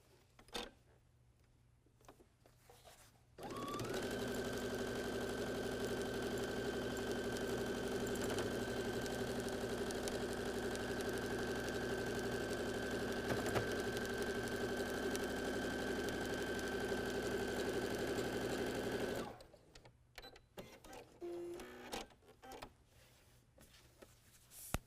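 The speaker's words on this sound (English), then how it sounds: "I'm just going to flip my bag over and stitch the other side" A sewing machine stitches along the side of a small quilted bag, running in one steady, loud, continuous whir for about fifteen seconds, with brief handling noises before and after.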